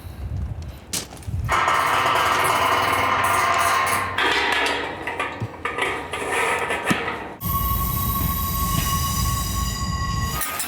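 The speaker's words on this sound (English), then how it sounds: "Now we're ready for the train to finally leave the yard and go back to the quarry and get reloaded." A loaded freight train pulling out of a yard after offloading stone aggregate, a loud continuous rumble of wagons with clanks, squealing wheels and a sustained high ringing tone in the last seconds.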